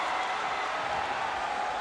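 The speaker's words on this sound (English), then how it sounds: "This crowd literally went bananas here." A crowd at a WWE wrestling event cheers and applauds in a dense, steady roar that holds at the same level throughout, with no clear break or single voice standing out.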